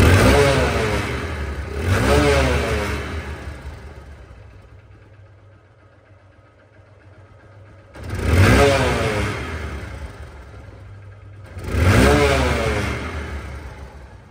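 A used Hero Hunk motorcycle's engine is blipped three times, each rev rising loud and close then falling back to a steady idle.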